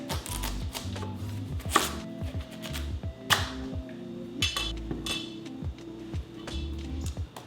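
A knife chops a red curry squash into wedges on a cutting board, sharp uneven thuds and clinks repeating close by, with short pauses between cuts.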